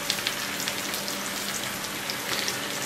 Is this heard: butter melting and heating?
yes